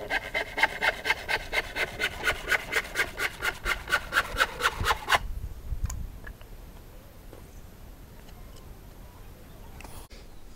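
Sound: sawing treated timber

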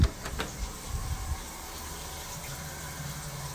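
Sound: shower water running

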